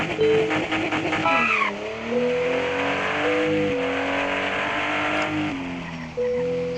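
A BMW driven in the racing game Drive Zone: Germany revs and accelerates loudly, engine pitch climbing and dropping through gear shifts, with a brief tire squeal early on and no talking.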